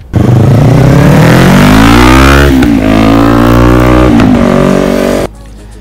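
A parallel twin motorcycle engine revs hard and steadily for about five seconds, its pitch climbing and then holding with brief dips between pulls, loud and close, before cutting off abruptly.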